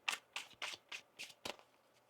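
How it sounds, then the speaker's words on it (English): Tarot cards are riffled and snapped in six quick, evenly spaced bursts, crisp and close, with no voices. "One more shuffle here."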